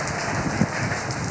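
Heavy rain pours down in Dadu and Badin, Sindh, during a monsoon downpour that flooded streets. It is a steady, dense hiss of rainfall hitting surfaces, continuous and close, with no voices.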